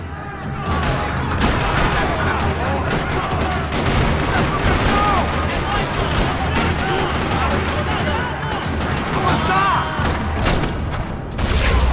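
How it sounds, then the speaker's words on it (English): Dense, sustained gunfire rattles through a parking lot in the game Max Payne 3, with many overlapping shots and booms at a steady loud level across the whole stretch, broken only by brief dips. "Another parking lot rattling with gunfire"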